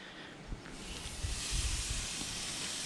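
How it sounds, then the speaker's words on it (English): Pork tenderloin sears on a Weber kettle grill, giving a steady broad sizzle and hiss that swells slightly, with a few soft thumps and clanks of handling near the start. "we're gonna sear it a little bit on the one side"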